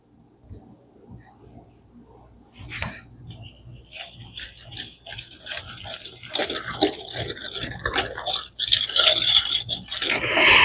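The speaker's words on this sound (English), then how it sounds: "we're going to just stir this up with the eggs" Buttermilk chess pie batter with eggs being stirred, starting quiet and growing into a busy, wet scraping and clicking that gets louder toward the end.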